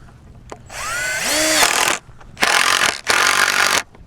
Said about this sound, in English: we're just going to go ahead and start our screws at each one of these